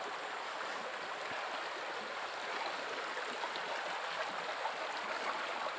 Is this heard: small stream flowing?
yes